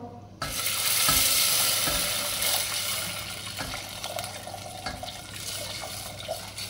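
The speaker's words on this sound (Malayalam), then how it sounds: "ഞാൻ സാധാരണത്തെ പോലെയല്ല 1/2 ലിറ്റർ വെള്ളവും ഒഴിച്ച് കൊടുക്കുന്നുണ്ട്." Half a litre of water poured into a pot of sago for beetroot payasam, a loud, steady gushing splash starting abruptly and continuing throughout.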